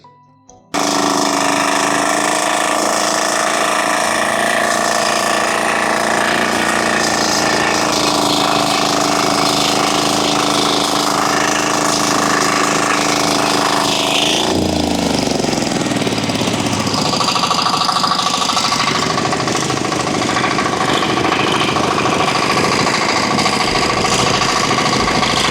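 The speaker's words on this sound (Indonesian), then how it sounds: "Sekarang kita hidupkan mesinnya." A Firman diesel cultivator tiller runs in a dry field with a loud, continuous knocking diesel chug that starts abruptly after a brief silence and shifts character midway, with no voices.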